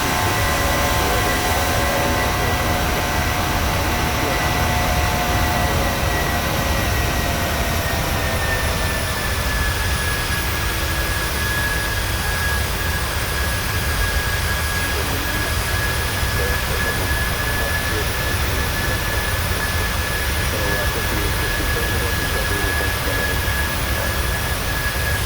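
A plane flying low over Oregon's Willamette area with its engines roaring loud and steady. The droning whine holds for the whole stretch with no voices.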